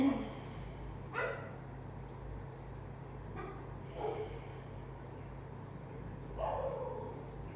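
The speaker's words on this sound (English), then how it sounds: "enjoy the dog symphony if you can hear it" Several dogs barking in the distance, short bursts spaced a few seconds apart over a steady low hum, faint and far off with no talking.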